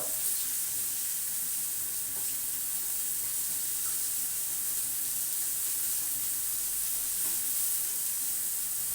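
Eggplant slices frying in hot oil in a pan give a steady, close, continuous sizzle and hiss that holds evenly throughout with no voices.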